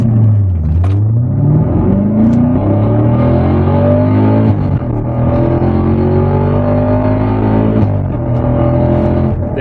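A 2017 Chevrolet Camaro SS 1LE accelerates hard from a dig, its loud V8 roar climbing steadily in pitch through quick gear changes, heard from inside the car with no talking.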